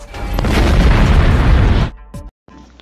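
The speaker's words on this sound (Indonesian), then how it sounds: "Ditembaklah mobil polisi tersebut sampai meledak berhamburan." A loud explosion as a police car is shot and blows apart in a film, roaring and rumbling for about two seconds, then cutting off abruptly, followed by a brief sharp sound and quiet aftermath.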